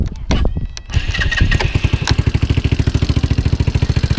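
A scooter engine fitted with a 171cc big bore kit and a 28mm slide carburetor cranks with a few bursts, catches and settles into a fast, even putter close up.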